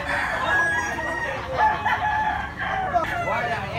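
A bullstag gamecock of Talisayon type crows in drawn-out calls amid other roosters clucking and crowing nearby, with background noise throughout.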